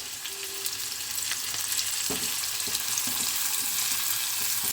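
Onions fry in oil over a high flame for methi saag, a steady bright sizzle with occasional scraping stir strokes, close and continuous without talk.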